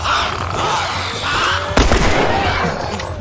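A single sharp gunshot cracks out in The Last of Us amid background game noise, loud and close, with a brief echoing tail.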